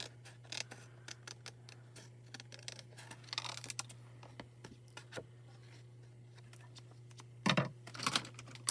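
Scissors snip through gold glimmer foiled cardstock in a series of quiet, sharp clicks and crisp cuts, close up, with a faint steady hum underneath and a louder burst of cutting near the end.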